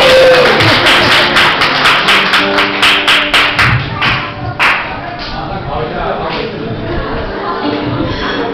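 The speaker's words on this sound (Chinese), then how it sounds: "来，掌声鼓励。" Audience clapping at a church farewell gathering for a departing nun: a dense, close burst of hand claps for about five seconds, thinning out as voices carry on underneath.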